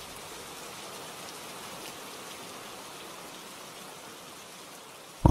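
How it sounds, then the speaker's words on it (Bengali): A steady rain shower patters evenly as a backdrop to a spoken ghost story, a soft continuous wash that ends in a sudden louder burst at the very end. "এক পশলা বৃষ্টি।"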